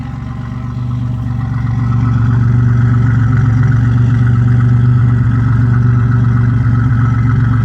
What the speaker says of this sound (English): Here's a exhaust note for you.